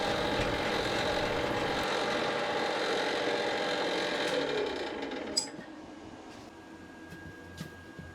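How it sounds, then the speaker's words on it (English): A 1/2 inch bit held in a Jacob's chuck on a lathe bores into a square wooden blank for a pizza-cutter handle, giving a steady whirring grind that stops near the end, followed by a few small clicks. "Here I'm using a 1/2 inch bit with a Jacob's chuck to drill the hole into the piece while it's still square."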